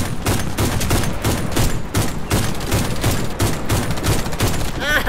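Rapid bursts of gunfire in the video game Warface, loud repeated shots in quick rhythmic volleys filling the whole stretch.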